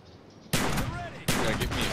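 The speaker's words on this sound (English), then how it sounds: "Shotgun battle." Shotgun fire in the video game Black Ops: two loud, sharp blasts, the second about three-quarters of a second after the first, each trailing off into a broad rumble.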